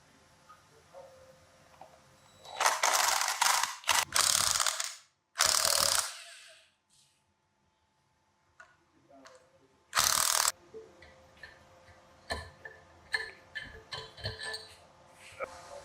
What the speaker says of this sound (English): now we're going to take the bolts off that mount the rotor to the hub